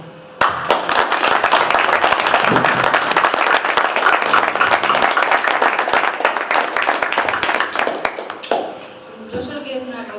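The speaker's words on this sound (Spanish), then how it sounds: "pues sí me gustaría ese aplauso para Mar" Sustained audience applause at a conference talk on UFOs, dense and steady for several seconds before tapering off, with voices coming in near the end.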